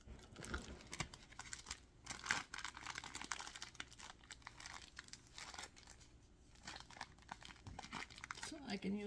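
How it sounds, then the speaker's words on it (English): A plastic Ziploc bag crinkles and rustles up close as it is filled with cream to form a piping cone, with soft, irregular crackles and a voice talking quietly underneath. "I'm putting this in the Ziploc bag so I can make a cone of this"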